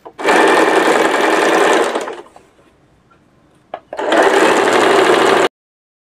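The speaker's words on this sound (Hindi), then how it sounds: "यहाँ पर आपने सिलाई लगा देनी है, नीचे की साइड आधा इंच जितना सिलाई लगा देनी है।" A sewing machine stitches a half-inch hem on a suit in two loud, steady runs close by, each lasting about two seconds, with a quiet pause between them.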